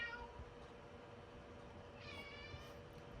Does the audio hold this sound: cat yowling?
yes